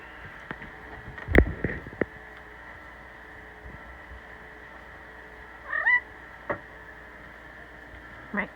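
A cat meows once, a short, faint rising call heard through a played clip, amid quiet room noise and a few soft thumps.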